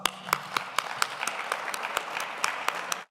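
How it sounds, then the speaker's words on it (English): An audience at the Rare Evo 2023 conference breaks into warm, steady applause for a speaker, a dense, even patter of many hands that holds for about three seconds and then stops abruptly. "let's give him a big, warm round of applause."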